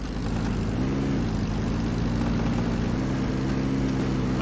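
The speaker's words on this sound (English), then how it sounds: "Chopper's landing on us." A video-game helicopter lands nearby during a match hunting forward bases with a jeep, producing a loud, steady rotor and engine drone with a pulsing low hum that fills the whole clip, with no talking.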